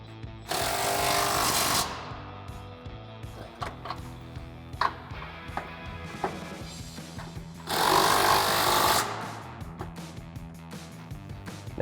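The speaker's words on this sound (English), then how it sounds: "So now we can go ahead and tighten our control arm bolts back up. We'll grab our 21mm socket and swivel adapter on our impact." An impact wrench with a 21mm socket and swivel adapter hammers Jeep Wrangler JK control arm bolts tight in two loud rattling bursts, with scattered clanks and tool handling in between.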